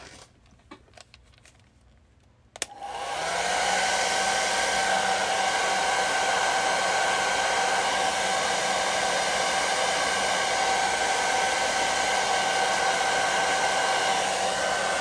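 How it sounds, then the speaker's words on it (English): A hair dryer switches on after a few soft clicks and blows steadily with a loud, even whoosh and a faint motor whine that continues to the end. "let me heat it up with the hair dryer"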